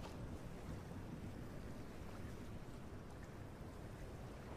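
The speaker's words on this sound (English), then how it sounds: "Oh, I got a motorboat." Motorboat engine in Fortnite, a steady low droning hum with rushing water and wind noise, continuous and without talk.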